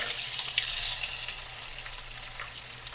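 Squid pieces fry in a pan, giving a steady close hiss of oil with scattered small pops and crackles throughout, no voices present.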